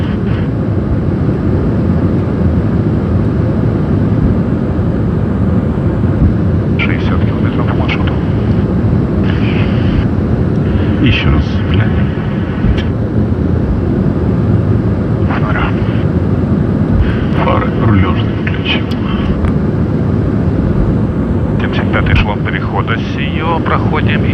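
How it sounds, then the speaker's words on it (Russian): Drone flying overhead outdoors, a steady buzzing whine persisting throughout with wind noise, heard under voices talking. "Дрон."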